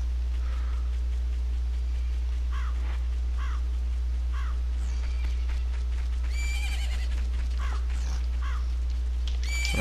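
Epona, the horse in the video game Zelda: Majora's Mask, neighs in a short whinny amid scattered game chirps and calls, all over a loud, constant low hum.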